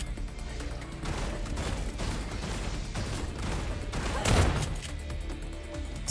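Steady gunfire in System Shock (2023), a rapid fusillade of close shots running throughout, peaking in one heavy burst toward the end.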